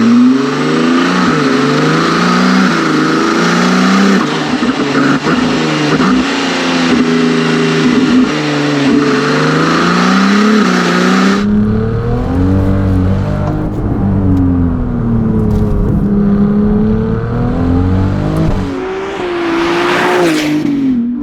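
A Novitec Ferrari 296 GTS N-Largo's 2.9-litre twin-turbo V6 with Novitec exhaust revs loudly and close, rising and falling in pitch, then drops to a deeper burbling drone before a final sharp rev.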